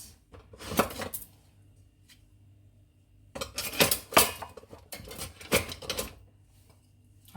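Wooden spoon knocking and scraping in a pot of melting butter ghee on a stovetop, two bursts of close clattering taps separated by a quiet pause.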